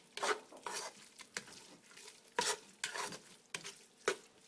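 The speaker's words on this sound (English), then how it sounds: "we're going to cook this in this state once it's mixed for a total of 3 minutes on medium heat" Onions, carrots and garlic with tomato paste, Italian seasoning and sugar are being stirred in a pan over medium heat, giving repeated scraping strokes over a soft sizzle, close and moderately quiet, with no one talking.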